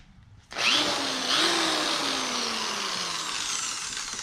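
Smoking electric drill starts abruptly and runs continuously beside an engine, a loud close whine with a slowly falling pitch, slightly rising in level after a second and holding steady to the end.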